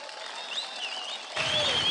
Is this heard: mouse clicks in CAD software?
no